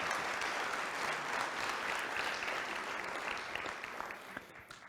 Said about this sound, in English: So one more round of applause for Jim Ravas